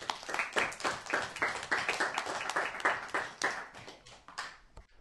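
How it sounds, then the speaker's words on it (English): An outdoor audience applauds, a few seconds of dense, steady clapping from a small group that tapers off near the end. "Can we give them a round of applause?"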